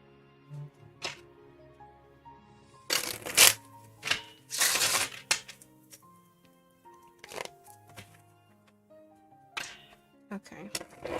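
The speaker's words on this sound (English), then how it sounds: "I'm going to keep this card and I'm going to shuffle again." A tarot deck is shuffled in a few short, crisp riffling bursts amid quieter card handling and soft taps. A voice is faintly present.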